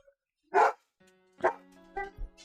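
A dog barks a few times nearby, sharp single barks separated by short pauses, with a faint whimpering yip at the end.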